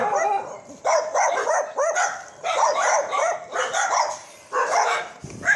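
Several dogs in a dog impound bark and yip repeatedly in bursts, some with whimpering tones, a busy chorus of barking nearby.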